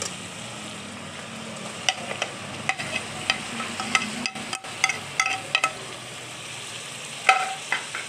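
Onion masala frying in a pan for stuffed round gourd (bharwan tinda), a low steady sizzle broken by repeated sharp scrapes and taps of a spoon stirring, close and fairly loud, with no talking.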